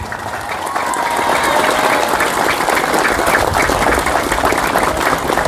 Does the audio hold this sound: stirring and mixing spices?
no